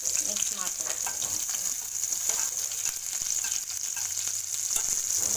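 Ingredients frying in oil make a steady, close, crackling sizzle that runs evenly throughout at moderate loudness, with small spattering pops and no talking.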